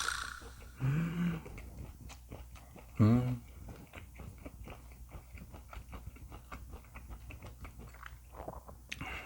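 Thinly sliced Korean pork neck being chewed up close, with soft wet munching and smacking throughout. Two short vocal sounds break in early on.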